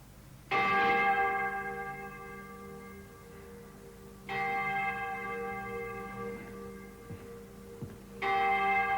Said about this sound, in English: They don't jump out of their skins every time the oldest bell in Europe rings out from St. Nicholas here.